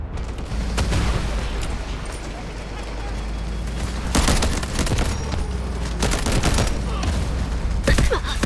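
Mini-14 rifle fire in the video game Delta Force comes in several sharp bursts and single shots amid explosions and battle noise, loud and close, with someone talking over much of it.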